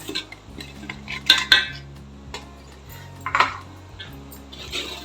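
Flour being stirred into hot jaggery syrup in a pan for adhirasam, with clinking spoon-on-pan scrapes and taps in irregular bursts over a low background hum.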